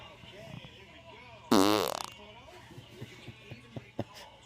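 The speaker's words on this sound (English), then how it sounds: "While wifey's upstairs, hubby's down here farting." A man on a couch lets out a loud, sputtering fart lasting about half a second, with quieter indoor sounds and faint movement before and after.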